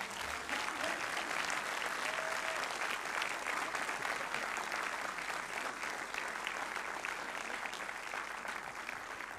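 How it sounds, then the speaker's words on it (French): Continuous applause from an audience honoring graduates at a French new-media school ceremony, a steady, even roar of many hands clapping at moderate distance throughout, without speech on top. "Bravo, applaudissez-les."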